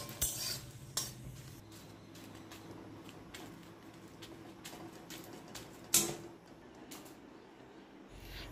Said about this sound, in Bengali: আর এবার বাকি মশলাগুলো আমি এখানে ভেজে নিচ্ছি